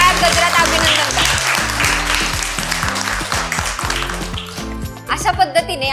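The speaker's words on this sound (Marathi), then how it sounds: "गिरवी PHCच्या मोठ्या टाळ्या गजरात अभिनंदन करा." Audience applause congratulating the Girvi PHC team at an ASHA health-worker quiz contest, a steady wash of clapping mixed with a loud voice and a low, tonal musical backing throughout.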